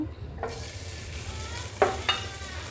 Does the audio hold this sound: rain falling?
no